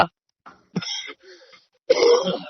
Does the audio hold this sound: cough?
yes